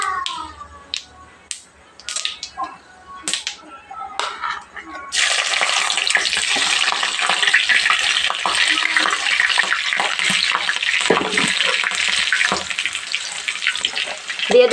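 Whole white mustard seeds and fish pieces are stirred in a pan with a few taps and scrapes. Loud, close hissing frying then starts and runs steadily for the rest of the clip.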